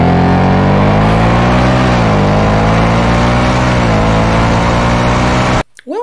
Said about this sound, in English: Is this a stock exhaust sound?